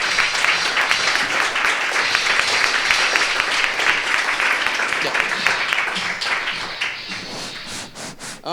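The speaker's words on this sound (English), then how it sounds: "we're going to stand up and give her the biggest rock star applause" Audience applause at a Startup Grind Barcelona event as a speaker comes on stage, a dense, steady clapping crowd sustained for several seconds before tapering slightly near the end.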